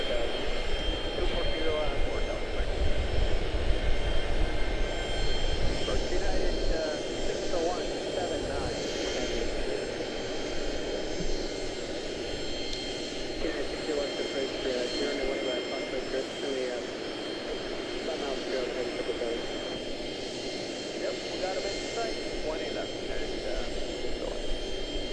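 An American Airlines Boeing 777 departs Charlotte-Douglas International bound for London Heathrow, its jet engines building into a loud, rumbling roar that stays strong and gradually eases over about 25 seconds, with people talking over it.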